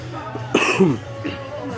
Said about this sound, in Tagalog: Naghahanap tayo ng vitamins kasi ako inuubo din ako.